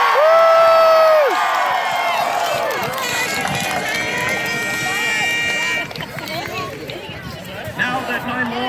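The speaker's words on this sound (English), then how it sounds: "Can I have one last cheer for good luck?" A crowd cheers and whoops at a jousting show, a loud, sustained roar of many voices with a long rising whistle-like tone at the start, fading slightly after a few seconds.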